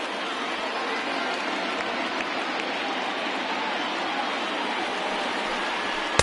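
A baseball crowd of more than 37,000 on its feet cheering a strikeout in a Blue Jays game against the Rangers, a dense, continuous roar of applause and shouting filling the whole stretch without a break.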